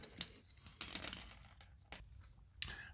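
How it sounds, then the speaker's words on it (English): A refrigerator compressor start relay is shaken by hand, giving faint, sparse crinkly rattles and ticks in a few separate bursts with quiet gaps between them, no talking. "shake that around and see if you hear anything rattling in there"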